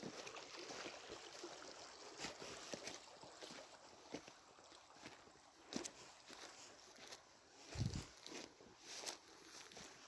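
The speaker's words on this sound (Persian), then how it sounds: "فقط صدای آب" Water flows in a constant soft rush, with light splashes and occasional gusts of wind buffeting the microphone.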